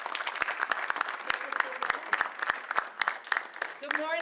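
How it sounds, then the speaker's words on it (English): Audience applause at a young men's leadership conference welcoming a hospital representative to the stage, dense steady clapping from a crowd filling the room with sharp individual claps standing out. "Give her a round of applause."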